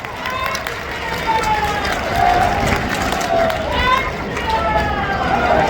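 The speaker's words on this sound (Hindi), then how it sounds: "जनपद बरेली की ओर से जोरदार लगातार तालियां मंच तक पहुंचनी चाहिए।" Sustained applause and cheering from a large crowd at the Bareilly launch of the School Chalo Abhiyan school campaign, a dense, loud wash of noise lasting throughout with voices mixed in.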